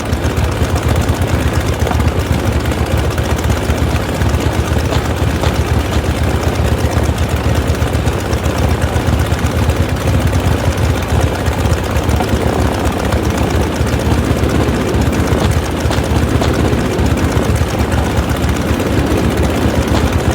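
Burning aircraft engine in the Jack Keane video game, a loud continuous low engine roar with a steady rattling drone throughout and no pauses.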